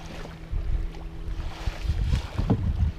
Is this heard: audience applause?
no